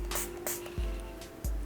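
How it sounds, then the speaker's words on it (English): Setting spray from a face mist bottle hisses in short, breathy bursts, a few quick pumps close to the microphone, alone without talk. "So I'm just gonna spray it directly onto my face."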